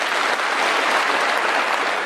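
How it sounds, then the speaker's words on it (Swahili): A church congregation breaks into steady, dense applause that fills the space evenly and continuously, with many hands clapping together at a loud level. "pigieni yeye makofi"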